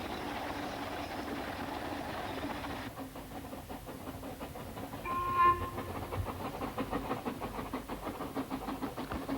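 A Festiniog Railway train hauled by Merddin Emrys, a Fairlie 0-4-4-0 double-ended steam locomotive, rolling along with a rhythmic clatter of wheels, a brief tonal squeal or whistle partway through, and a steady mid-distance rumble.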